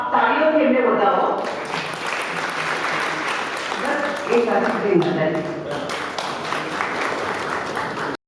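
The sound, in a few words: audience applause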